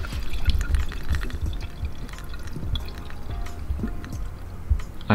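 Coolant being poured into a motorcycle's cooling system, a soft irregular trickle and splash of liquid running steadily, close by and fairly quiet, with light handling clatter and no talking.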